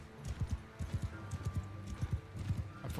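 Hooves of a fast horse galloping in the Mount & Blade 2 Bannerlord video game, a steady rapid clip-clop rhythm of thuds running close and clear throughout, with faint game ambience behind.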